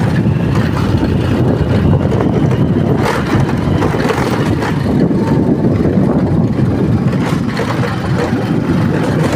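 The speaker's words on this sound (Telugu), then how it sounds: "బైక్ నేను రైడ్ చేస్తున్నాను" A motorcycle ridden on a journey gives a steady, loud engine drone with continuous low rumble and road and wind noise throughout, with no pauses.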